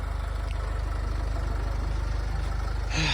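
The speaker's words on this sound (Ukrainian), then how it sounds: "Послухайте просто, як працює двигун." A 2010 Nissan Qashqai automatic engine idles steadily with a low, even rumble throughout, ending in a brief louder burst.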